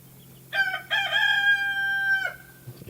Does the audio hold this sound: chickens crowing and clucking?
yes